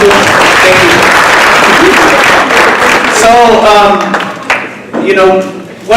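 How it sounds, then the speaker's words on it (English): An audience applauds at a justice-themed event, with loud, dense clapping for a few seconds that gives way to someone talking over the tail of the applause. "can we get another round of applause for all the folks that he mentioned here"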